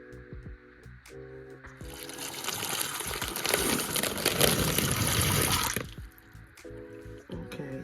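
A tap pours a steady gush of water for about four seconds to soak red kidney beans, with a soft voice heard briefly before and after the flow.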